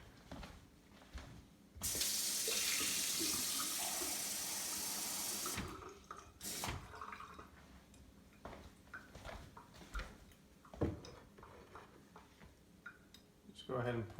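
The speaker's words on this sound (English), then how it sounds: "Now we get the warm water in there." Warm water pours from a tap into a Vitamix food processor jar for pizza dough, a steady rushing stream lasting several seconds, followed by clatter and handling noises while a person talks.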